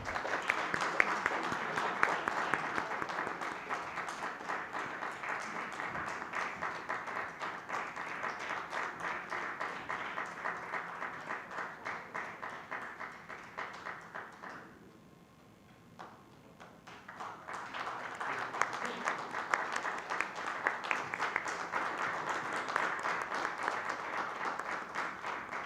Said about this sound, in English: Can I have a huge round of applause for him?